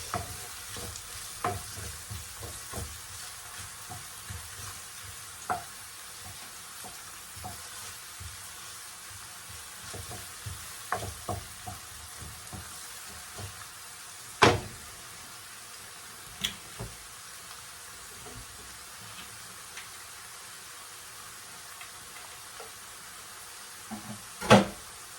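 A Jamaican-style vegetable casserole sizzling steadily in a pot, a constant low hiss punctuated by occasional stirring scrapes and a few sharp utensil knocks.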